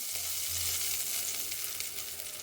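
Cumin seeds sizzle in hot oil during tempering, a steady close crackling hiss with a brief louder burst early on, no voices.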